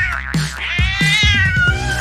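A cat meowing repeatedly up close, several loud plaintive, drawn-out cries in quick succession over a steady background hum.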